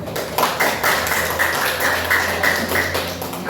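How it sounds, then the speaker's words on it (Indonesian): Students in a classroom give a group a round of applause, a small cluster of close, sharp hand claps in an uneven rhythm over a steady room hum, lasting a few seconds. "terima kasih untuk kelompok 1 tepuk tangan"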